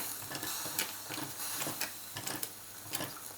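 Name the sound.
toy steam engine building steam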